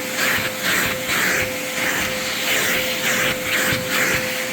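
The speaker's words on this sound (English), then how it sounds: "I'm going to take the vacuum and vacuum up all the dust." A vacuum cleaner whines steadily with a high tone, its hissing suction rising and falling in repeated strokes as it picks up dust from kitchen cabinets.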